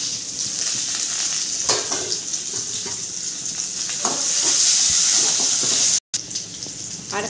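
Dried chillies, curry leaves and onion frying in hot oil in a home kitchen, a steady loud sizzle with occasional stirring scrapes throughout and no talking.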